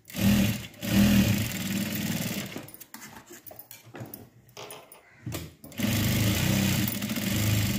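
A sewing machine stitching a blouse piece runs in loud buzzing bursts, pausing midway with clicks and handling noises before the steady motor whir resumes.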